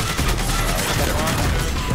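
Dense gunfire in the battle royale game Warzone crackles continuously and loudly, overlapping shots blurring into a rapid barrage with a voice faintly mixed in.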